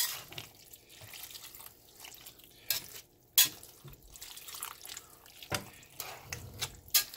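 Water tipped from a bowl into a pot of potato soup, giving soft splashes and drips with a few sharper clinks, quiet and close, with no talking.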